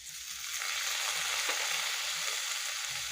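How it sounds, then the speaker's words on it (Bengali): Ginger and garlic fry in a pan as the base for a crab masala, giving a steady, fairly quiet sizzle with faint stirring sounds beneath and no talking. "এটা একটু ভালোভাবে ভেজে নেব। আদা রসুনও ভালোভাবে ভাজা হয়ে গেছে।"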